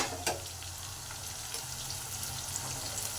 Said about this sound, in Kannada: ಹಾಕ್ಬಿಟ್ಟು ಎಣ್ಣೆಯಲ್ಲಿ ಕರಿತೀನಿ